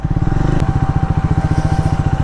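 A motorcycle engine idles close by with a steady, rapid pulsing putter as the bike rolls to a stop for parking on a mountain ride toward Chakrata; a brief click sounds partway through, with no talk.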